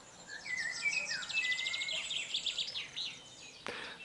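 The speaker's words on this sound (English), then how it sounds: "It's that time of morning for listening to the birds." Several birds chirp and trill in quick, overlapping bursts, fairly faint against quiet outdoor background, with one sharp click near the end.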